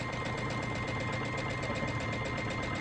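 A sewing machine stitches a satin stitch while run by its foot pedal, giving a fast, steady mechanical whirring with an even rhythmic needle chatter, close and loud throughout.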